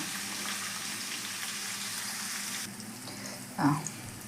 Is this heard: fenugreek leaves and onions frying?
yes